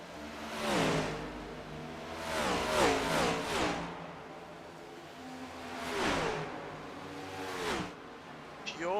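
Race cars lapping an oval track at Homestead Miami Speedway in a racing video game, several engine passes whining up and fading as cars sweep by at a moderate level, with two clusters of cars a few seconds apart.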